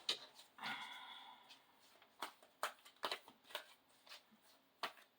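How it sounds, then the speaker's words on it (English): A soft riffle of tarot cards being shuffled, then scattered light taps and flicks of cards. Quiet and close, with no talking. "Let me shuffle them again."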